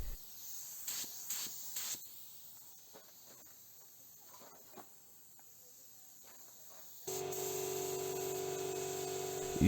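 A spray gun lays a clear coat on a repaired rusty car door. Quiet clicks and handling noises come first, then a steady, close, even hiss of spraying runs without pause to the end.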